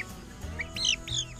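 Bald chickens cluck and chirp softly nearby, a few short calls in quick succession over a faint background hum.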